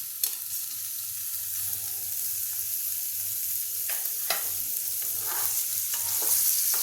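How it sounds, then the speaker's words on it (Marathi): Paneer pieces fry in a pan for a dhaba-style palak paneer, giving a steady, close sizzle with occasional crackling bursts and stirring scrapes, and no talking. "आपण आता हे पनीर मी आता यात काढून घेते थोडेसे तुकडे फक्त आपल्याला लालसर करायचे आहेत"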